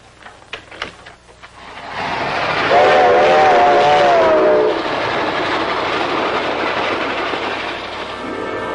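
A train rumbles along the rails with a rising, continuous roar, and a horn sounds briefly partway through; a few clicks precede it.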